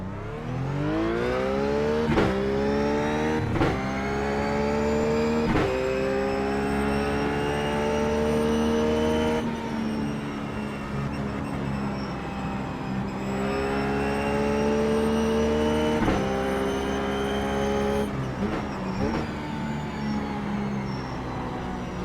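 A Ruf GT3 race car engine howls around the Mosport circuit in iRacing, its pitch sweeping up through each gear with brief dips at the shifts, steady and loud throughout.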